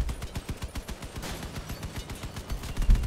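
Rapid bursts of automatic gunfire from vehicle weapons in the combat game Crossout, a fast stuttering string of loud shots running without pause from start to finish.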